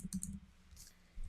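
A few quick keyboard clicks near the start, then a brief pause, with more faint tapping toward the end while someone types a search term on a computer.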